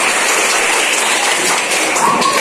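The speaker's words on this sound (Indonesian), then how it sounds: "Oke, tepuk tangan." Students in a classroom clap together after a hand-clapping game, a steady wash of many hands, fairly loud and even throughout.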